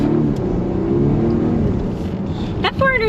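A 2022 Volvo XC60 Recharge plug-in hybrid accelerating, a steady low engine drone heard from inside the cabin, with a voice speaking briefly near the end.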